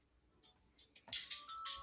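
A phone ringtone goes off in a series of bright, repeated electronic bursts that grow louder toward the end, playing alone with no talk.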